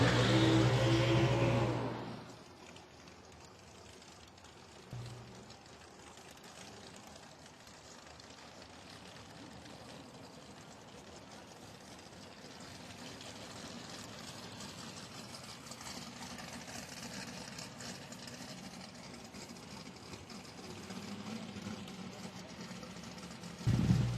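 Drag racing cars, including a 1993 Fox body, start with a loud burst of engine noise. A low, steady idling rumble then carries on in the background and swells again near the end.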